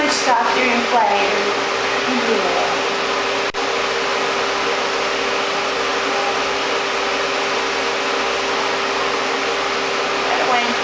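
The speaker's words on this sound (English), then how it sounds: "Blow drying the dog's ears." A hair dryer blows loudly and steadily on a dog's ears during grooming, a constant close rushing of air with no breaks.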